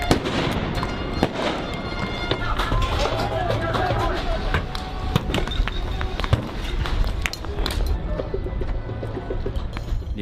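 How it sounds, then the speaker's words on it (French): GLI-F4 grenades are fired and explode amid a Gilets Jaunes protest on a Paris avenue during Act 18: sharp loud bangs and pops over a dense, noisy crowd roar, with people talking and shouting. "Les premières grenades GLI-F4 sont tirées"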